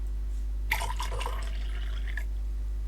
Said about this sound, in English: when you put food and water into the troughs